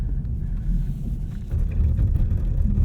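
A 2020 BMW 840i xDrive Gran Coupe on narrow winter tires rumbles low and steady from inside the cabin on back roads, swelling slightly louder partway through.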